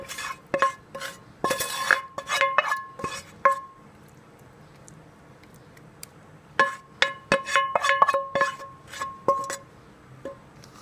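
Remaining chicken pieces go into a pot of biryani in a home kitchen, heard as bursts of clinking metal and scraping utensil strokes against the pot, a cluster of knocks, a quiet pause, then another run of clatter.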